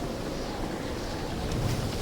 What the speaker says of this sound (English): The crashing of waves.